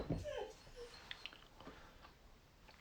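A puppy lets out a brief, high whimper and a couple of faint yips, quiet and somewhat distant in an indoor room during a live quiz night.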